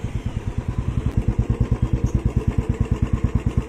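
A Bajaj Platina motorcycle engine runs steadily close by, its single-cylinder thump pulsing in a quick, even rhythm that stays loud throughout, with no voices.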